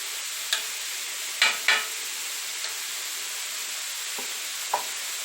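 Food cooking in a pan, a steady low sizzle with a few sharp clinks and scrapes of a utensil against the pan scattered across the span.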